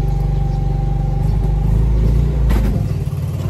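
Motorcycle tricycle engine running steadily while being ridden, a loud close drone with a rising rev near the end and no talk.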